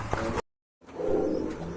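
A pair of Rajgolla pigeons coo in soft, close murmurs, broken by a brief moment of silence before the cooing resumes.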